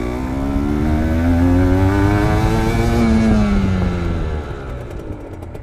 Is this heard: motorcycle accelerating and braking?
yes